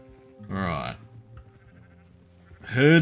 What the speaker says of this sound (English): Herding sheep.